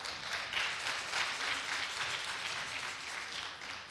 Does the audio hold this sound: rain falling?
no